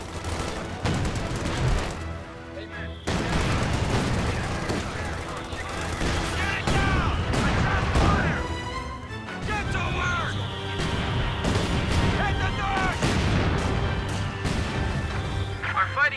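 Heavy machine gun fire in Company of Heroes 2, dense rattling bursts over constant battlefield din with repeated sharp shots and distant blasts, under radio-style unit voice lines.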